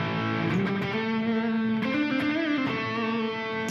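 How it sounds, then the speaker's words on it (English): An electric guitar played through a Maestro Invader Distortion pedal rings out in a thick, saturated sustained tone with a few shifting held notes, loud and alone. "I'll let you guys hear it. It is the Maestro Invader Distortion."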